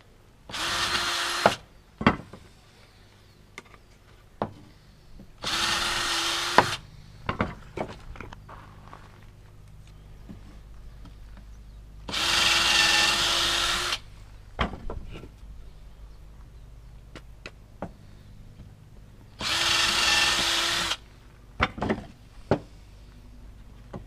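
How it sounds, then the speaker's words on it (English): A power drill whines through hard wood in four separate bursts of a couple of seconds each, with clunks and handling noises in the quieter gaps. "the fact that that was as hard as it was to drill through"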